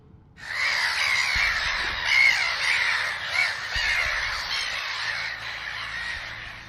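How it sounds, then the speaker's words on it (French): A flock of crows caws loudly and continuously, many overlapping harsh calls forming a dense, busy chorus with no speech. "c'est finalement un groupe de corneilles qui s'éleva au-dessus de nous"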